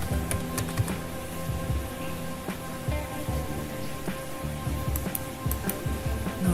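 Keys clatter steadily on a computer keyboard during image-editing work, a continuous run of soft, close clicks with small bursts of louder taps.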